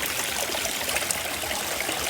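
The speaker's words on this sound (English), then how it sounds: "In here the water's just flowing." Clear, warm water flows steadily in a shallow natural hillside stream over rocks, making a soft, continuous trickling and babbling close by with no voices.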